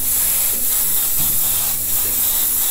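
Airbrush spraying paint for graffiti-style art, a steady continuous hiss of air and paint mist lasting throughout, close and fairly loud with no talking.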